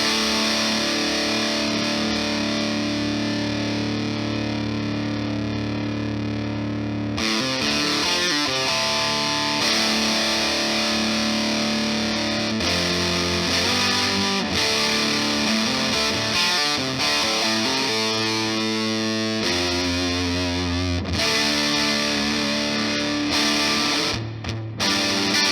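Electric guitar through a Black Arts Toneworks Pharaoh fuzz pedal with the gain at full: thick, saturated, sustained fuzz chords and riffs play continuously and loud, with no talking.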